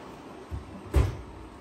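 A toolbox's bottom drawer slides and bumps shut in a garage setting, a soft rumble followed by a louder, close thud.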